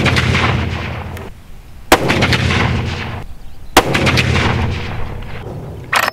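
Loud rifle shots from a Ruger American Ranch in 450 Bushmaster firing Hornady Black 250 grain FTX rounds at an outdoor range, three sharp reports a couple of seconds apart, each followed by a long rumbling echo and steady background noise.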